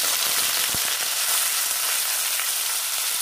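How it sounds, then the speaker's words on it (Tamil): Onions sauté in hot oil with curry leaves, fennel and urad dal for a Tamil stem curry, a loud, even sizzle that runs throughout, with one brief knock early on. "இதுல வெங்காயம் போட்டு வதக்கிக்கலாம்."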